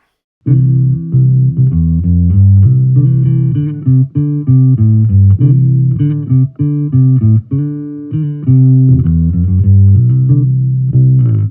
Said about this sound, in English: Here's the sound of the Ampeg B15.